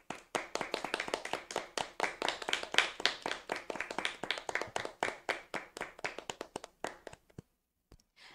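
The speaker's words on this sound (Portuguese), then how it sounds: "Palmas ao Apocalipse de Jesus." Audience at a church youth event in São José dos Campos clapping in a rhythmic, fairly close burst of distinct claps that slows and thins out toward the end before a couple of final claps.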